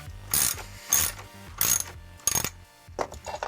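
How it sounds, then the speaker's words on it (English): A ratchet tightens the wheel nut on a longboard in several short bursts of rapid clicking, each a quick run of pawl ticks separated by brief pauses, close and clear. "and then you can use your ratchet to tighten the nut."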